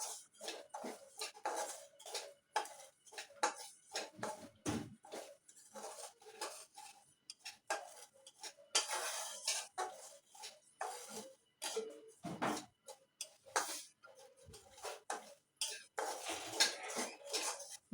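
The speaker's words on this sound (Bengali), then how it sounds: "সুজিটাকে একটু হালকা লাল করে ভেজে নেব" Semolina being dry-roasted in a pan for suji halwa, heard as a quiet run of irregular scraping and clinking strokes of a spoon against the pan, close and without voices.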